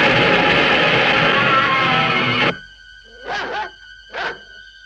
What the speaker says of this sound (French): Lindsay, fais sortir le chien de la cuisine à fond la caisse.